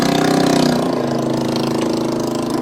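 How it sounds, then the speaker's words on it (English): A loud motorcycle engine rumbles nearby, a steady mid-pitched drone that fades slightly as it moves along. "A very loud motorcycle just came here."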